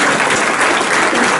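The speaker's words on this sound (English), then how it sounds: "applause" An audience claps together in a dense, steady burst of applause, loud and close for a short moment with no voices over it.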